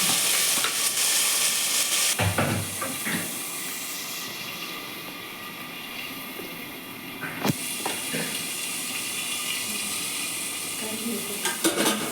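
Tomatoes fry in hot oil for a biryani, giving a steady loud hiss and sizzle. It cuts off abruptly twice and then resumes, with occasional stirring scrapes and no speech.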